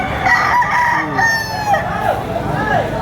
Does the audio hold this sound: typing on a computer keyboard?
no